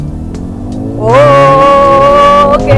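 Mercedes-AMG GLA35 engine accelerating on an empty road, a low idle hum swelling into a strong, rising drone with a steady tone; a brief spoken remark comes just before.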